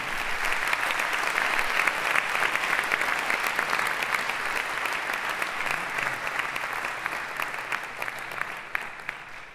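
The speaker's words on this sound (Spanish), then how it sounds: "Pueden aplaudir, si quieren." Concert audience at a music-week closing concert applauds steadily for nearly ten seconds, a dense crowd of clapping with a few sharper individual claps standing out and a faint murmur underneath.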